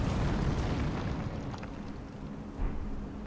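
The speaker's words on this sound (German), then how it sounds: "Das ist eine Bombe!" A bomb blast in the video game Elden Ring, a loud, deep rumbling explosion that rolls on for a few seconds with a heavy low-end roar, then a smaller burst near the end, no talk.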